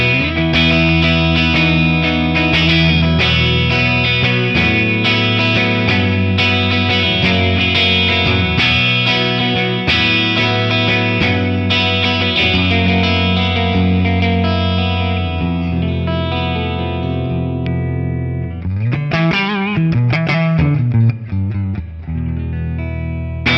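An electric guitar on its edge humbucker plays through a Tonex capture of a Marshall JCM 2000 amp, heavily distorted with chords and riffs ringing continuously and loud, ending in a bending lead passage, with no voices.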